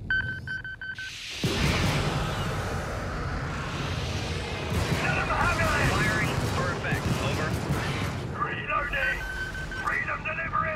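Sustained gunfire from the video game Helldivers erupts after a short quiet tone, a loud, dense barrage that keeps roaring for several seconds with layered in-game effects and voices over it.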